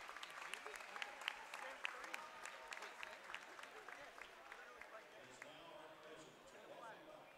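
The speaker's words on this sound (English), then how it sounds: "we have now a round of applause for our homecoming court candidates" Crowd applause for homecoming court candidates at a high school game night, faint and distant, with scattered claps and crowd murmur over an open-air background.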